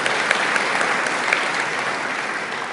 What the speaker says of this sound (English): You're supposed to applaud or do something on that, you know.